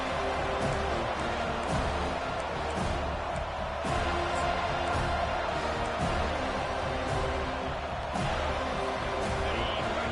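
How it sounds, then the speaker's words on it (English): Stadium crowd in the NCAA 25 college football video game roars steadily for a third-down defensive stand, a dense, continuous wall of noise with sharp thuds scattered through it. "Decibels rising as the crowd gets behind this defense on third down"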